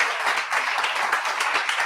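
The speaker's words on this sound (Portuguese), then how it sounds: "Dê um aplauso a Jesus." A church congregation applauding: dense, steady clapping from many hands, fairly close and continuous throughout with no talk over it.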